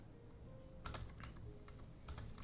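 Fast, busy typing on a computer keyboard during a Minecraft server livestream, with clustered bursts of key clicks over a quiet background and no talking.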